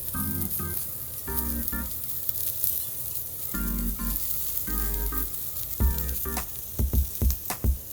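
Gorgonzola sauce with olive oil and a touch of pepper sizzles in a pan with a steady close crackle. Short tonal bursts recur over it, and a few louder spatters come near the end.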